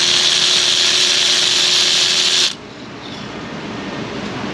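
A spark plug comes out of a Ford 5.0 F150 engine with a plug socket on a power tool: a loud, steady whirring drive runs for about two and a half seconds, then cuts off, leaving a quieter background hum.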